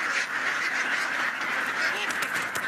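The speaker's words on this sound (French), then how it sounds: "Des milliers de palmipèdes qui, dans un joyeux cancadement, s'ébrouent en quelques secondes sur des hectares de rizières." Thousands of ducks released into rice paddies quack together in a dense, continuous chorus, a loud, steady wash of overlapping calls with no clear gaps.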